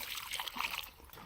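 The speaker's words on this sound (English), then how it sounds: "So then let's pour some fuel in." Fuel poured from a container into a cheap pressure washer's tank, a brief close trickle and splatter of liquid with a light gurgling texture.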